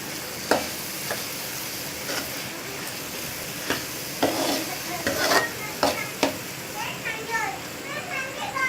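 Spoon stirring coriander into cooked urad daal in a pot, soft sizzling with sharp scattered clinks and scrapes at close range and some faint background chatter.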